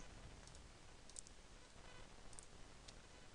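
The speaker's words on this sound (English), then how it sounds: "click on File, then click Delete" Faint computer mouse clicks, a few sharp ticks spread irregularly over quiet room hiss, in a Microsoft Windows file-management session.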